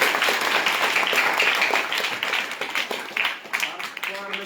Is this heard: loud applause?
yes